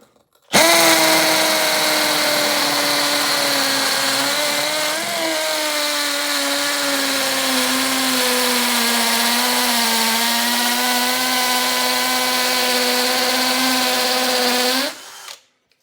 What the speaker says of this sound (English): There it is, the Bosch Hammer Drill 18-volt brushless.